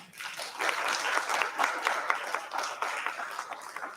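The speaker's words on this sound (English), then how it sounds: "can we have a big round of applause to all of those who have presented so far?" Audience applause for student presenters at a university global day event, a dense steady wash of many hands clapping throughout, close and fairly loud with no talk over it.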